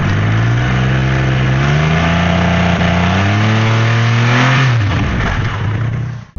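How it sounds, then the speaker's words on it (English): A Triumph Rocket 3 GT motorcycle's big engine revs loudly and close by, climbing and falling in pitch through repeated throttle blips before cutting off abruptly at the end. "let's hear this beast growl"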